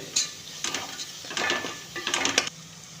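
Spoon stirring gravy for Ramadan nonbu kanji, a traditional mosque porridge, in a metal pot: three or four distinct bursts of scraping and clanking, close up, with short pauses between.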